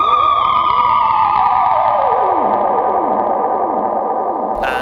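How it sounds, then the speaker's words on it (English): Electric guitar run through a Kaoss Pad delay with no distortion, a sustained bright tone smeared by dense repeating echoes that sweep downward, loud and continuous, ending with a sudden click. "That sound is kind of being boosted by the delay that's going on there."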